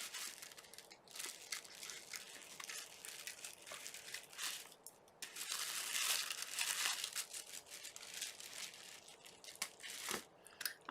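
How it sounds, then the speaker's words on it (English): Gold scissors snipping and slicing through the paper wrapping of a crochet subscription box, with crisp crinkling and tearing at close range in irregular bursts, no talking. "cut the paper."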